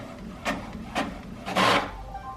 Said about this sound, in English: Printer, print for me